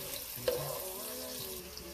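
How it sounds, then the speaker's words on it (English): Onion, ginger and garlic frying in hot olive oil in a pot, a quiet, steady sizzle with a brief clink of a spoon stirring, no voices. "when your oil is hot enough, you fry the onion and the ginger and garlic"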